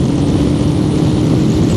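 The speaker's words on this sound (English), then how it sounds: "But the engine note on this is really good" A Yamaha V Max 1200cc cruiser motorcycle engine drones steadily and loudly while riding at speed, a continuous low rumble with wind noise and no talking.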